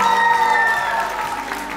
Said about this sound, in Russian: Бурные аплодисменты мисс Шымкент Айганам Ниязбек